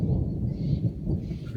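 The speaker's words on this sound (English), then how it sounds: "You hear that thunder?" Thunder rolls as a low, steady rumble over a campsite outdoors, continuous and moderately loud with no talk over it.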